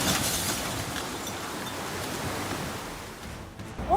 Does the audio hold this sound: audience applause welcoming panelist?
no